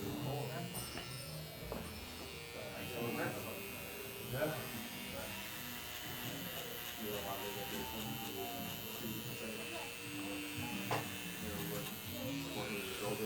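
An electric hair clipper buzzes steadily at close range during a haircut in a barbershop, its hum running continuously while someone speaks over it.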